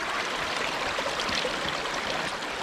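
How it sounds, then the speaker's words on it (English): Water rushes through a small Scottish burn during gold sluicing, a steady close hissing babble of flowing stream with no voices. "You can hear the water."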